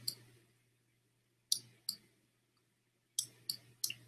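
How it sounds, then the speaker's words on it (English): Tactics cards from the Pavlov's House board game being shuffled, heard as short crisp clicks and snaps in quick bursts against a quiet low hum, close and faint. "So we will shuffle them."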